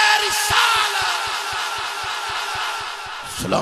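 A large crowd at a religious gathering roars a repeated response to a chanted slogan, loud massed voices with regular rhythmic thumps underneath, fading out near the end.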